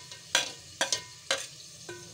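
Spices frying in a pan for Lahori chicken chana dal with meat, stirred with four sharp, scraping spoon strokes over a low sizzle, close by and with no voices.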